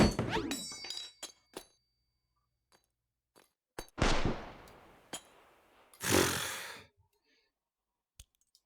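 Smoke grenade in the H3VR virtual reality shooter, with two loud hissing bursts of about a second each between scattered metallic clinks and thunks.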